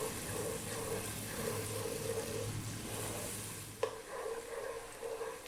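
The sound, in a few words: onions and spices frying on high heat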